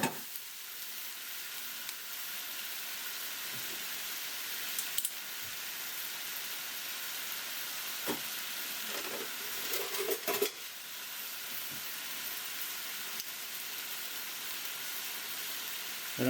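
Chicken with pepper and fish sauce sizzles and browns in a pan for pineapple chicken. The frying hiss is steady and even throughout, broken by a few light clinks and stirring scrapes.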